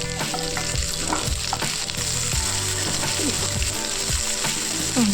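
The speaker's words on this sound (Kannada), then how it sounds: "ಈರುಳ್ಳಿ ಹಾಕುತ್ತಾ ಇದ್ದೀನಿ ಇದನ್ನು ಅಷ್ಟೇ ಸ್ವಲ್ಪ ಲೈಟಾಗಿ ಫ್ರೈ ಆಗಲಿ" Onions frying lightly in a pan for paneer gravy, a dense, loud crackle with continuous rattling and scraping of a spoon stirring against the metal, no voices.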